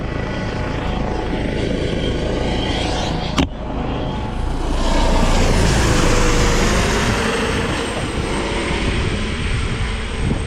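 A helicopter's steady rotor drone fills the scene on an inshore fishing outing, swelling louder as it passes close overhead, with a brief sharp knock partway through.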